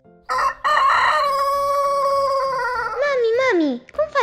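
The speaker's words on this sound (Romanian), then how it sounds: "Mami, uite un cocoș!" A rooster crows loudly up close, one long drawn-out call that wavers and falls off at the end.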